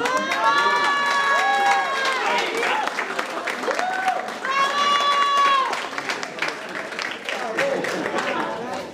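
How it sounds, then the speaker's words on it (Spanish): An audience applauds the soloist Matías Gobbo, clapping and cheering through a crowd while tonal voices or calls rise above the noise at intervals, with loud, dense clapping throughout. "Le damos un fuerte aplauso a Matías Gou."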